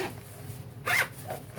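A zipper runs closed on a grafting tool carrying case, one quick, close rasping pull in the middle, with quieter handling sounds of the case before and after.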